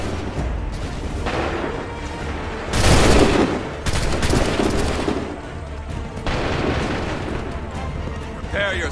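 Musket volleys fired on command in Assassin's Creed 3: a loud, booming burst of massed gunfire, followed by further crackling salvos, mixed with shouted orders and battlefield din.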